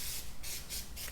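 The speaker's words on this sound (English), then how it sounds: "we're just going to use a little bit of brake cleaner just to get the oil off that" Brake cleaner sprayed onto a brake rotor of an Alfa Romeo Giulia to remove oil, heard as three quick, close, hissing aerosol bursts in rapid succession.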